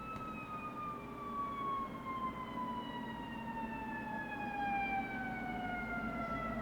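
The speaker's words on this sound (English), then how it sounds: "there's an ambulance" An ambulance siren wails outside a room through an open window, its falling tone sweeping repeatedly as it passes at a distance, faint but clear over a low background hum.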